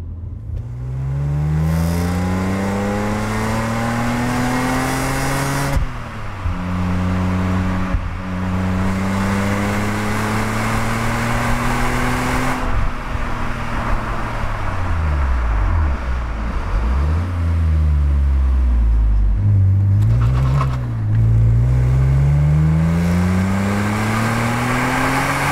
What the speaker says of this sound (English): I will now turn off the traction control, because I found driving previously that the traction control limits a bit too much on acceleration.